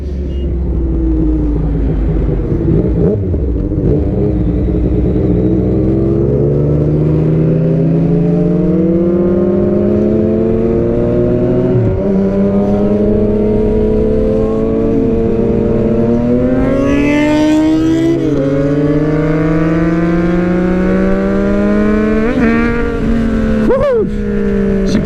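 Yamaha MT-09 motorcycle engine revving hard while riding, loud and close, with rising and falling pitch sweeps as the throttle opens and closes, several sharp upshifts and steady wind rush throughout.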